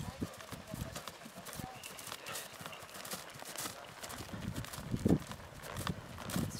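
Horses walk along, their hooves clip-clopping in a steady, uneven patter at moderate distance, with a louder cluster of hoof strikes near the end and faint background noise throughout.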